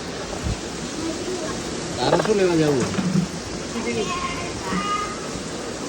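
Heavy rain falls in a steady, loud, even hiss, with people talking over it.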